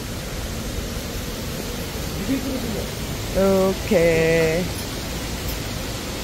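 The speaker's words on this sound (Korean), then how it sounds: "옆에 물소리를 들을 수 있어요" Water rushes steadily from a stream beside an outdoor restaurant in the Hadong–Gurye mountains, a loud, constant wash of noise close by, with a brief voice and a few short tones rising over it.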